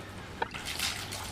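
Water drips during a dog's bath with Coco, the dog; a single soft drip lands near the start against a quiet, faintly humming room.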